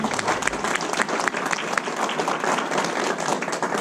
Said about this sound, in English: let's hear it for Rick Thompson